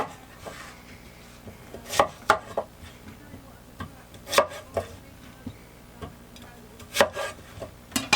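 A knife chops through onions for a tikka masala on a board in a narrowboat galley, giving irregular sharp cuts and thuds spaced a second or two apart amid faint kitchen noise.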